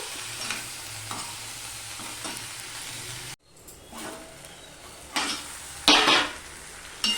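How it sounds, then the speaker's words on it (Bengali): Potatoes and flat beans with spices are stirred in a sizzling pan, with steady frying and a few scraping strokes, a brief quiet gap, then louder utensil scrapes and clanks against the pan. "এবার আলুর সাথে ছিমের সাথে মশলার সাথে সম্পূর্ণটা আমি ভালো করে মিশিয়ে রান্না করতে থাকবো"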